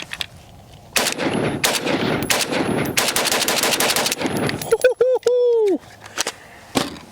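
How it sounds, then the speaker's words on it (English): A PSA AK-102 rifle in .223 firing SuperVel 55 grain rounds at about 25 yards, a run of loud, rapid sharp shots in quick succession, then a few ringing metallic pings and one more shot near the end. "just gonna shoot 10 rounds, see how this thing feels"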